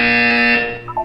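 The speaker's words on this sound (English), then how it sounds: "When you hear the buzzer, look down at the floor." A loud, harsh electronic buzzer from Portal 2 sounds in one sustained tone, droning steadily before cutting off abruptly near the end.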